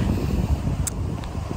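Strong outdoor wind buffets the microphone in a loud, continuous low rumble with gusty swells and a brief higher rustle partway through, heard with no talk.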